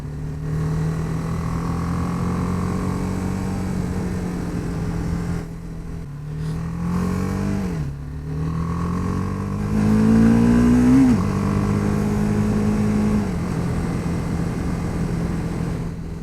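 Loud and steady, a BMW G310R motorcycle engine drones while riding, its pitch holding, dipping briefly around gear changes, then climbing again under acceleration, with wind noise throughout.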